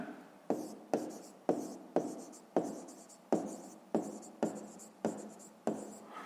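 Pen strokes scratch across paper in a steady run of about a dozen short, separate bursts, close and clear with no voices.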